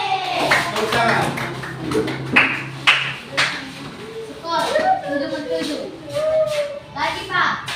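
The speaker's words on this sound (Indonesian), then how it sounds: "Tepuk tangan." Children in a classroom clap their hands in short, sharp rhythmic bursts at a teacher's call, mixed with children's voices and chatter throughout.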